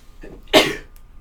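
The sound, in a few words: sneeze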